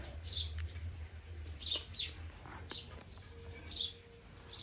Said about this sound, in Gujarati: ચકલાનો અવાજ એમાં હો બાકી